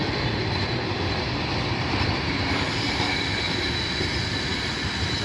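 A train rolls in to Cardiff Central or Bridgend station with a loud rumble, rhythmic wheel clatter and faint squeals, steady and close throughout with no voices.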